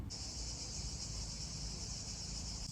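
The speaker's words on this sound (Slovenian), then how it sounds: "Kjera tišina, oziroma samo škržati se slišijo." Cicadas drone on hot summer day, a steady, loud high-pitched buzz holding unbroken throughout with no voices.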